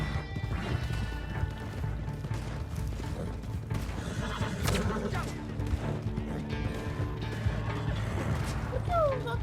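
Horses in the Red Dead Redemption 2 online game whinny and clip-clop over a dense, busy game soundscape with crashes and thuds, loud and continuous throughout.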